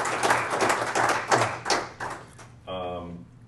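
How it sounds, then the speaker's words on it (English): An audience at the Walla Walla city council candidates forum gives a short burst of clapping for the candidates, a few seconds of applause that fades as a voice begins speaking. "what I'd like to do is just offer a round of applause for our candidates for getting in the ring"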